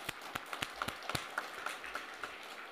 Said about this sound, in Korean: 우리 하나님께 감사의 박수 드리도록 하겠습니다.